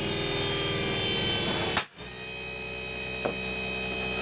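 A low-powered electric motor on salvaged components hums in a steady, even drone, cuts out abruptly for a moment, then resumes and runs on.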